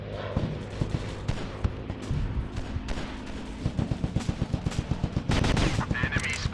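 Video game gunfire rattles in rapid automatic bursts with single heavy shots, continuous and loud, growing into dense rhythmic volleys toward the end.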